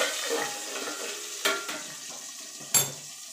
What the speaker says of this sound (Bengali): এইভাবে আমি মাছগুলো সব ছেড়ে দেবো। ছেড়ে মাছগুলো একটু কড়া কড়া করে ভেজে নেব